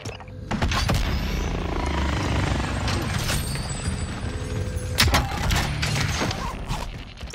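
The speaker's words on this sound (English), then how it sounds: "Tank chopper incoming." A helicopter in the Call of Duty Warzone video game thrums steadily and loudly, with dense mechanical rumble, clanks and a few sharp impacts over several seconds.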